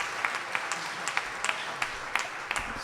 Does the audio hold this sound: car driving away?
no